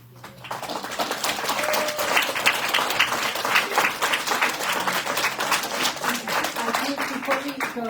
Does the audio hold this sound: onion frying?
no